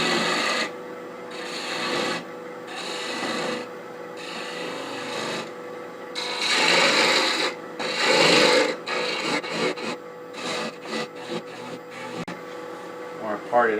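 A wood lathe turns a small gnome ornament, giving off a steady whirring hum with intermittent raspy scraping bursts as the piece is worked, while someone talks over it.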